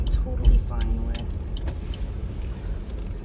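A car rolls slowly into a trailhead parking lot on a winter hike, a steady low engine rumble with a few bumps and jolts near the start and a voice briefly over it.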